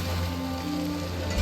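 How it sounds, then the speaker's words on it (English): Steady rain in The Witcher 3 video game, a dense broadband hiss of drops on surfaces with low droning ambience beneath, continuous and fairly loud with no voices. "Looks like rain."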